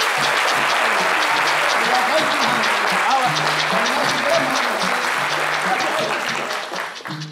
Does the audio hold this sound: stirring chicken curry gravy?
no